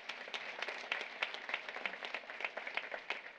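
Steady applause from a crowd at a nursing graduation ceremony, dense overlapping claps with occasional sharper individual claps standing out, sustained throughout at moderate distance.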